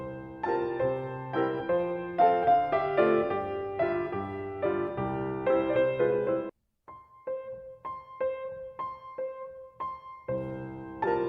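A solo piano plays a Chopin dance piece in clear rhythmic chords, with the sustain pedal lifted on the rests so the notes cut off crisply. After a brief full silence, a sparser phrase of repeated notes follows, close and alone.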